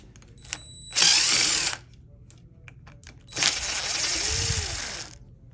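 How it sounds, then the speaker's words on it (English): A power drill backs out two screws from the arm of a steamer, giving two separate whirring bursts, each about a second or two long, close and loud, with quiet pauses around them. "you're gonna go ahead and remove the two screws that is sitting at the top right over here"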